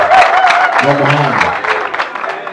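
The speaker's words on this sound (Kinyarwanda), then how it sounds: "amashyi menshi cyane kuri Izere, arakoze cyane" Applause for a performer named Izere at a wedding celebration, a steady wash of clapping from a crowd with a speaking voice running over it throughout.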